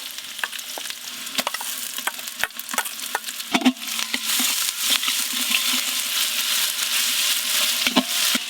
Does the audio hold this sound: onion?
yes